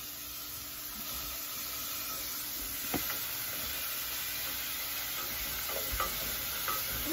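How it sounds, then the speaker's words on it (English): Onions sautéing in a saucepan for tomato jam give a steady soft sizzle and frying hiss with occasional stirring clinks, fairly quiet and continuous, with no talking. "We're gonna saute those onions a little bit."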